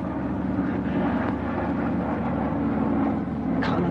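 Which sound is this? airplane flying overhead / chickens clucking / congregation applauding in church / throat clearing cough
airplane flying overhead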